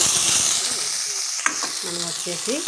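Brinjal pieces frying in hot oil in a pan, a continuous close sizzle with a single sharp knock of a utensil midway and a faint tonal hum over it.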